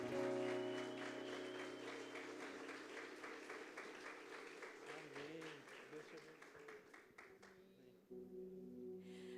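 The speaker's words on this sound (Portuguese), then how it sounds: "Uma salva de palmas." Applause rises for an international woman preacher being welcomed at an evening church service, dense clapping with music or voices underneath that thins and cuts off near the end.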